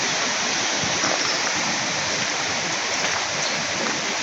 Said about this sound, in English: Beautiful Nairobi River flowing down there.